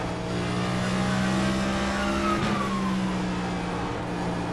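Stock car engines roar at close range during a Cup race at Bristol in iRacing, with a steady droning engine note as a lapped car comes up and blows by. A brief Doppler sweep marks the pass, and the engine hum continues throughout.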